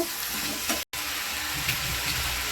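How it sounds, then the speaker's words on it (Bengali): Water poured into a sizzling vegetable curry of radish, potato, beans and carrot, a loud continuous hiss and bubbling sizzle that fills the whole moment, broken by one brief cut. "পরিমাণ মতো জল দিয়ে দিলাম"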